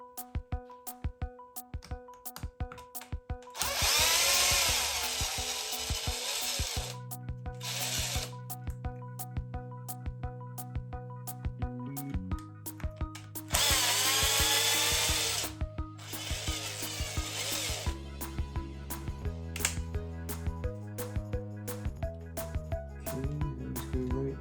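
Power tool driving screws into the gearbox of a Team Corally Dementor RC car, two loud bursts of whirring with tonal hums and clicks between them, up close with no talk.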